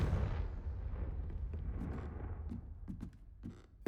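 A Confringo spell blast in Hogwarts Legacy booms as a deep, rumbling explosion that slowly fades, followed by a few smaller scattered pops and crackles.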